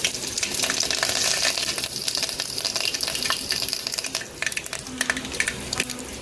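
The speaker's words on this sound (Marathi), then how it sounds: "आपण सर्वात आधी आपण तेल गरम झालं आहे छान. आपण मोहरी टाकून घेऊया." Mustard seeds crackle and sizzle in hot oil, tempering for an idli sambar, a dense steady frying hiss at close range dotted with sharp popping bursts throughout.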